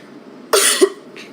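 A single sharp, forceful human cough, close and loud, with a faint breathy trailing sound after it and no talk.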